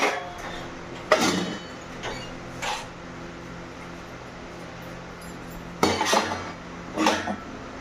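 Brass and bronze utensils being scrubbed and knocked together, producing a few sharp metallic clanks and rattles in separate bursts, with quiet gaps between them.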